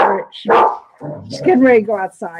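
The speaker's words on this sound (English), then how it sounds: "Oh, that's my dog." A dog barks and yips eagerly while getting ready to go outside, the sharp barks close and loud. A person talks over the barking.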